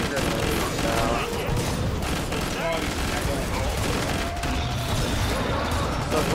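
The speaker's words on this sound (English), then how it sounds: "I'm throwing grenades now" Chaotic Killing Floor 2 combat roars continuously, with grenades bursting amid dense gunfire in a loud, unbroken wash of blasts and rattling shots, voices mixed in underneath.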